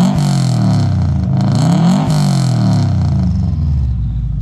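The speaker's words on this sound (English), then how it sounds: "Let's have some revs." A GC8 track car's boxer engine revs up loudly nearby, its pitch rising and falling through a couple of throttle blips before settling back to a steady idle.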